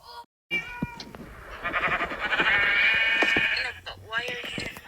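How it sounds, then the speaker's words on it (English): Sheep in the video game Minecraft bleat several times in a row, wavering and fairly close, while a person talks over them. "Don't kill my sheep!"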